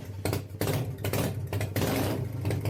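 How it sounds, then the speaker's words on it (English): Motor trike engine, a huge noisy three-wheeled motorbike, rumbles steadily with surges in revving, close and loud, with no voices. "It's like a huge, noisy motorbike, only with 3 wheels."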